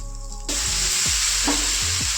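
A mixture of chire (flattened rice) and besan sizzles and fries steadily in a pan, with scrapes of a spatula stirring it every half second or so, loud and close.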